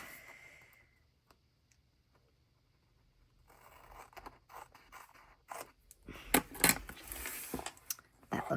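Scissors cutting paper for a bullet journal spread, a series of crisp snipping and sliding cuts growing louder and closer in the second half after a quiet start, with no voices.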